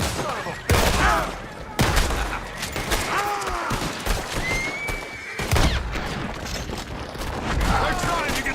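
Horse whinnies rise and fall several times amid a busy Red Dead Redemption 2 game scene with gunfire bursts and shouting voices over the top.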